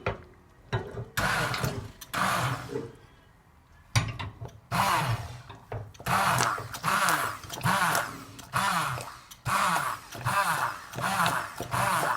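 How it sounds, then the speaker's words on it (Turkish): A handheld immersion blender purées a pot of homemade vegetable soup for children, its motor whirring in repeated bursts that rise and fall in pitch as it is pressed through the vegetables, loud and close with no talking. "blenderle birazcık ezeceğim."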